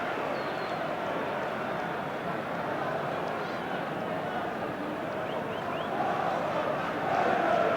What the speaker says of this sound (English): Cheers from the crowd because the referee originally had given the corner to Liverpool